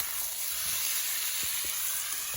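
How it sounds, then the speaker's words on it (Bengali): Raw chicken pieces sizzle loudly in hot oil with browned onions, dried chilli and ginger in a pan, a steady dense frying hiss throughout with a few soft stirring knocks. "এবার আমি কাঁচা মাংসগুলো এর মধ্যে দিয়ে দিই। আমি এটাকে লাল করে ভেজে নেব।"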